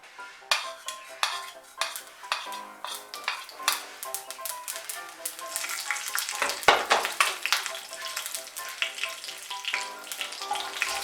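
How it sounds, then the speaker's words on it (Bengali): Nigella seeds and green chili tempering in about a tablespoon of hot oil, crackling and spitting in dense, rapid pops with a few metal utensil clinks, close and lively with no voices. "আমি ওই তেলের মধ্যে কালো জিরে আর কাঁচা লঙ্কা ফোড়ন"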